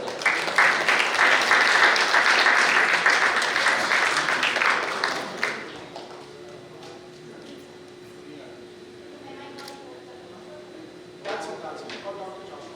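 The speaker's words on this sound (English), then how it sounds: "Keep the applause coming" An audience at a music video launch claps loudly and steadily for about five seconds, then the applause fades into quiet room hum with a few scattered claps.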